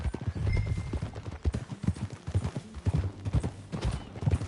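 Rapid hoofbeats of a galloping horse in Red Dead Redemption 2 pound close and loud, a dense rhythmic drumming with no talking.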